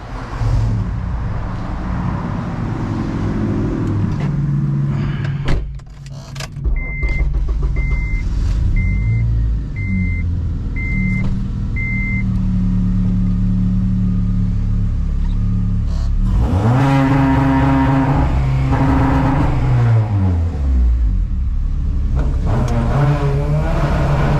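A drag race car with a Honda K-series engine rolls out and revs, a loud close rumble that rises in repeated revving sweeps, with a string of short electronic beeps partway through.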